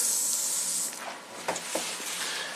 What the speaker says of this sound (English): fill all the channels, spray the window